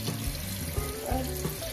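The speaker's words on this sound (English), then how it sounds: "I think you just turned the water on and started pretending like you were cleaning the dishes" Water running from a sink tap while dishes are washed, a steady broadband rush with faint clinks, close and continuous through the short moment, no talk.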